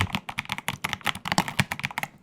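Fast, steady typing on a computer keyboard, close up, with a continuous run of sharp clicking keystrokes and no voices.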